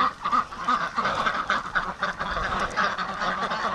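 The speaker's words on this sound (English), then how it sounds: "now that I've got Doug the herder, the duck herder here, it's so much easier" A flock of ducks being herded by a dog quacks continuously and loudly at close range, with overlapping calls and a few goose-like honks mixed in.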